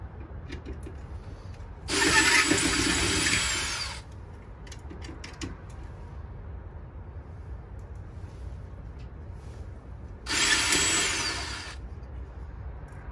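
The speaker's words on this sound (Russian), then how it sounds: "А мне и дрелька неплохая," An electric drill runs in two short bursts of about two seconds each, driving screws while headlight visors are fitted on a Peterbilt 389 truck, whirring loud and close with quiet pauses between.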